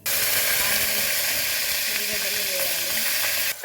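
Green chillies and turmeric frying in hot oil for moong dal khichdi, a steady dense sizzle with hissing steam that runs loud and unbroken from start to finish, with no voices over it.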